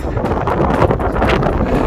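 Strong gusting wind on the summit of Ben Macdui in the Cairngorms buffets the microphone, a loud continuous roar with low rumble and shifting rushes, no voices.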